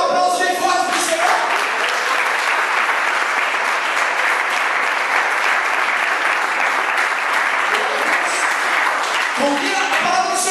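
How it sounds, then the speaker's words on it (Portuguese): A church congregation at a Christmas service applauds loudly and steadily for the Lord, a dense, sustained wash of clapping filling the room throughout, with a few voices faintly underneath at the start and end. "Quem é filho de Deus aqui, dá um aplauso bem forte para o Senhor."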